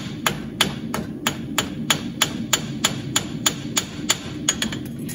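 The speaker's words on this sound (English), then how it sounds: "Drop in your hammer hand as you pull the clip out." A hammer rings sharply on a horseshoe on an anvil, pulling a clip, in a steady, brisk rhythm, about fifteen close blows in a row over a low background hum.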